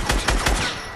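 Rapid gunfire bursts from the video game Fortnite, three sharp close shots in quick succession, loud and alone without voices.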